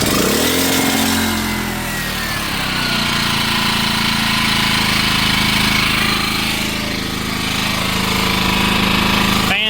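A generator in a homemade enclosure fires up after choking and keeps running: a loud, close, rough engine clatter that swells and dips slightly but drones on continuously.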